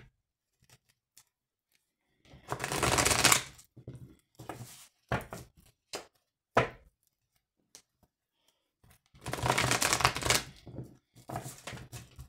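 A deck of oracle cards is shuffled and cut in two loud riffling bursts, with softer taps and card slides between them, in a quiet room.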